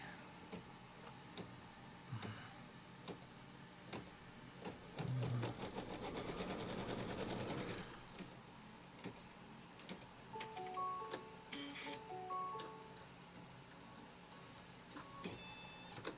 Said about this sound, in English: foot down, and let's tack down this fabric